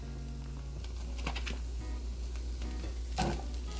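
Vegetables being stirred into browned ground beef in a pot for a baked spaghetti casserole: soft steady sizzling under a low hum, with a few scraping spoon strokes against the pot.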